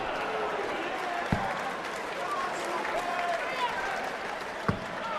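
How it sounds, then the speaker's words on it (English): A darts crowd at the PDC World Matchplay applauding, broad and sustained clapping and cheering from a large audience under continuous commentary, with a couple of sharp thumps. "Should get a really warm round of applause"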